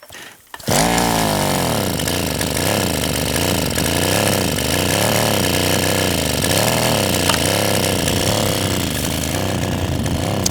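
A brush cutter's small two-stroke engine fires up after a brief quiet moment and keeps running loud and steady, with its buzzing pitch wavering slightly as it revs, close by and with no one talking.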